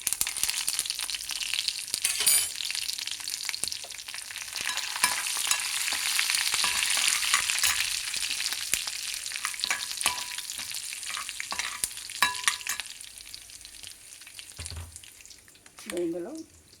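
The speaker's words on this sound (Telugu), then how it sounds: "ఇది రుచి చూసుకొని చివరకు ఒక తాళింపు వేసుకోవాలి" Spices for tempering sizzle steadily in hot oil, a continuous crackling hiss with occasional stirring clatter, close and moderately loud, easing toward the end where a brief voice is heard.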